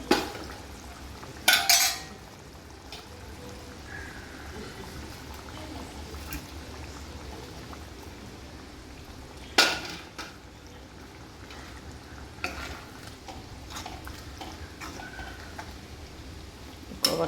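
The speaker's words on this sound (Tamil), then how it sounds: "குழம்பு நல்லா கொதிக்குது." Tamarind curry (puli kulambu) with ivy gourd simmers in a pot, giving a steady low bubbling under scattered sharp clinks of a utensil against the metal vessel, with no talking.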